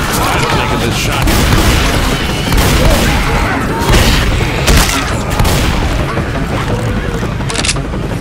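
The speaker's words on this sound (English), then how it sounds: "Reloading! I'm taking this shot." Dense Left 4 Dead 2 gunfire and booms in a chaotic zombie firefight, loud and continuous for the whole stretch with several sharper bursts standing out, under shouted voices.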